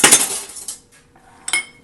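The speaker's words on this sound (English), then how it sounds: "We're just going to lightly beat that." A whisk lightly beats eggs in a bowl, giving a few brief metallic clinks and taps close by, separated by short quiet gaps.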